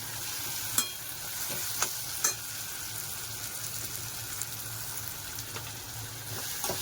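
Tomatoes fry in a pan for upma, giving a steady, fairly loud sizzle close by with a few scattered clicks and scrapes from stirring.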